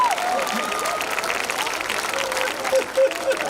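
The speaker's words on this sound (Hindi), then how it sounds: "एक बार तालियां वालियां बजा दीजिए।" Sustained, dense audience applause at a Hindi comic poetry gathering (hasya kavi sammelan), steady and fairly loud throughout with a few voices mixed in.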